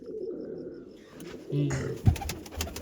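Pigeons coo softly in a backyard coop while large female pigeons are let out during cleaning, low rolling calls rising near the end amid faint bird chirps and a brief voice.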